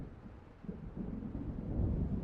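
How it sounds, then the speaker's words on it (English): Low, faint rumbling thunder from an approaching storm in Alan Wake, a soft rolling murmur that slowly swells over a couple of seconds with no voices. "It seems there's a storm coming."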